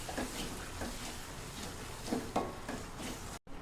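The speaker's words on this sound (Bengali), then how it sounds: "মশলাটা দেওয়ার পর একটু নেড়ে চেড়ে" Ground turmeric, coriander and roasted cumin are stirred in a pan for boiled-egg curry, giving a soft, steady sizzle with faint scraping of the spoon.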